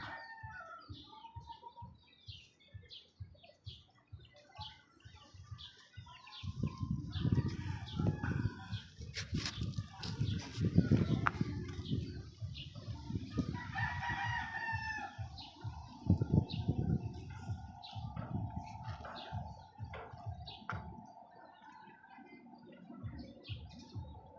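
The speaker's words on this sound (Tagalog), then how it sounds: "Kulungan natin ng mga manok." Chickens cluck and crow from a backyard coop, with a rooster's crow rising over a steady chorus of hens nearby.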